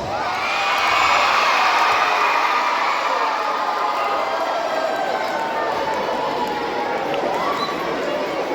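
A crowd at a Pongal celebration applauds and cheers. The roar swells within the first second and holds loud and steady, with many overlapping voices and clapping.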